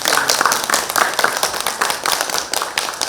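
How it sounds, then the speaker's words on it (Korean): Dense clapping from a crowd welcoming a lecturer, steady and fairly loud throughout, with crisp overlapping hand claps and no voices on top. "우리 선생님을 큰 박수로 맞아보겠습니다"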